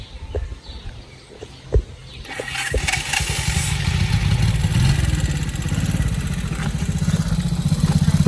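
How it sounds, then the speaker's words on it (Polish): Motorcycle engines rumble and rev nearby at a palace in the Opole region, swelling into a steady loud drone as the bikes pull in, with a few clunks at the start. "na motorach się zjeżdżają, hałas robią"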